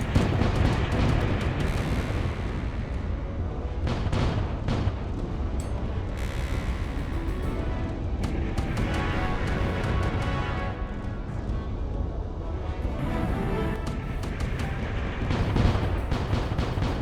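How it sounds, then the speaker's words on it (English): Ship cannons booming in the space pirate video game Void Sails, a dense, continuous barrage of loud heavy blasts and crashes layered over each other, with no talking. "so we need to go kind of sideways here so that we can fire our cannons"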